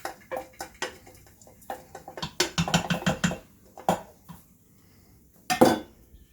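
Washed and rinsed lentils going into an Instant Pot, heard as a run of clinks and rattling scrapes of a utensil against the metal pot, with a denser pouring clatter in the middle and a final knock near the end.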